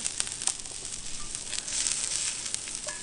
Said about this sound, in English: So get a little oil on here, and I'm going to take some of these onions here.